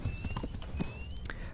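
Rapid hoofbeats of a galloping horse in the video game Kingdom Come: Deliverance clatter in a quick rhythm over a steady background drone, with no voices.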